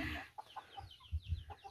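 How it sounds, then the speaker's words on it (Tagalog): Large chickens clucking nearby in a farmyard, a quick series of short, separate clucks and low grunts over about two seconds, fairly quiet, with no talk. "yun na po yung mga manok na malalaki"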